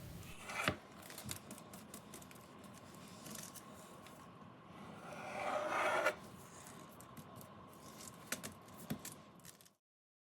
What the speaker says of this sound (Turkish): Hamurun kenar kısımlarını ve üst kısmını bıçak yardımıyla keselim.